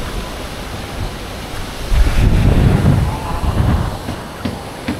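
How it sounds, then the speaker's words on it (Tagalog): Strong wind gusting by the sea during a typhoon at Baseco, a broad rushing roar with surf-like swells that build loudly midway and then ease, no voices. "Ang lakas ng hangin"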